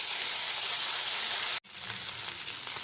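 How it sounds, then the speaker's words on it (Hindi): Ginger garlic paste frying in a cup of hot oil in a kadhai, a loud steady sizzle that cuts out for an instant midway and then resumes close up. "1 टीस्पून अदरक लहसुन का पेस्ट ऐड कर देंगे और इसे 2 मिनट पका लेंगे।"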